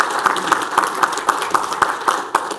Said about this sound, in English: Please give Marshall a round of applause.